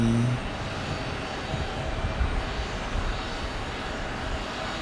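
A landed airliner coasting down the runway at Phoenix Sky Harbor, a steady, fairly loud broadband engine rumble and wind-like rush that holds level throughout, with no voices.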